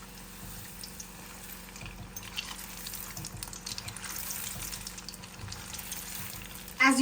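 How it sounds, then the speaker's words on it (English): Low, steady sizzle of veg potato puffs frying in oil, faint and close, with soft bubbling and a sharp clatter at the very end. "Let's fry."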